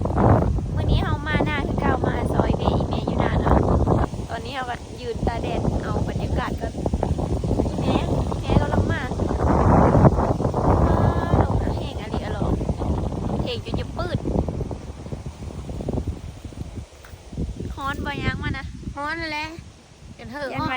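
Strong, cold wind gusts across an open field, buffeting the microphone as a constant rushing roar under steady talking for the whole stretch.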